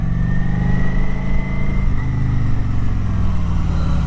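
A 2012 Kawasaki motorcycle engine accelerating out of a corner during cornering practice, loud and close with a steady rising growl and throttle changes, no talking.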